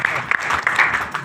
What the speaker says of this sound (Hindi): तो एक बार जोरदार तालियां आपके लिए